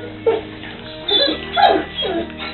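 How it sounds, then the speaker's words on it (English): Puppies yip and whimper in a kennel as dogs play nearby, several short high cries in separate bursts, fairly close and loud, with no talk over them. "Puppies!"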